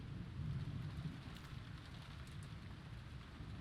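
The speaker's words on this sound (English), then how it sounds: "Nice thunder sound." A thunder sound effect in Umineko When They Cry: a low rumble under steady, faint rain with no other sounds.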